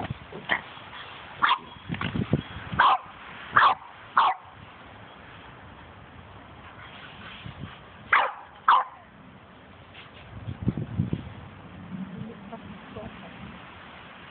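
A dog barks at a black shaggy dog, firing off sharp single and paired barks in bursts, close and loud, with quieter stretches and some low murmuring between them.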